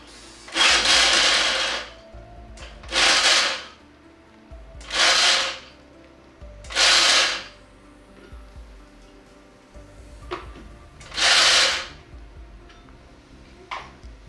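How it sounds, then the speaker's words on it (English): A blender whirs in five short bursts separated by pauses, each pulse loud and close, chopping nuts and spices to a coarse, salt-like texture. "it's faster in a blender"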